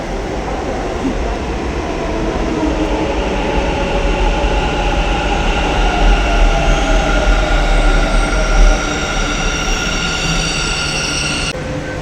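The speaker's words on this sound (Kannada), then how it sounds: "ಈಗ ಮೆಟ್ರೋ ಸ್ಟೇಷನ್ಗೆ ಬಂದಿದ್ದೀನಿ" Bengaluru metro train at a station, a loud, steady rolling rumble with humming traction tones and faint wheel squeal running throughout, nearby and unbroken, with no talk.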